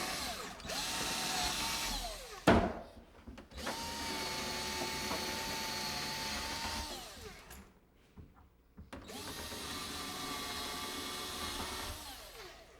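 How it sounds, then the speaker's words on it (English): Power drill pre-drilling a hole while a kitchen cabinet is installed in a Vermont farmhouse: three sustained whining runs with rising and falling pitch, separated by a sharp clunk and short pauses, close and alone. "Let me pre-drill this hole."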